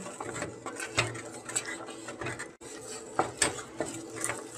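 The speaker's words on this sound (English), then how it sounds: "Stir it continuously so that it won't stick." A spoon stirs semolina (suji) cooking in a pan over a low flame for Odia manda pitha, giving soft, continuous scraping with irregular clinks close by.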